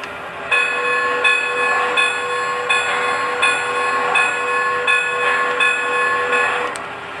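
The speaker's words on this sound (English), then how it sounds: "Now let's check out the bell," Bell of a Lionel LionChief Plus Mikado model steam locomotive, a steady metallic ringing with regular repeated strikes about every 0.7 seconds, close and clear over a soft hiss, lasting several seconds.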